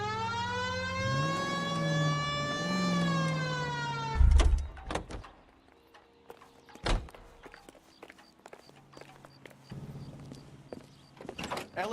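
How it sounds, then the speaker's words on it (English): A wailing police car siren from the video game L.A. Noire rises and falls loudly for about four seconds, then cuts off into heavy thuds like car doors, faint clicks and a low engine hum. "Hit the siren."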